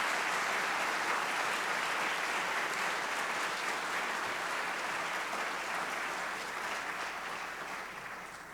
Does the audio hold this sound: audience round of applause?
yes